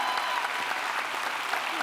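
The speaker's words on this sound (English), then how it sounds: "Let's give them a big round of applause" An audience applauds at a school district State of the Schools event, a dense and steady round of clapping from a large crowd that fills the whole moment.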